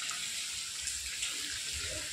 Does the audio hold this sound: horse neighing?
no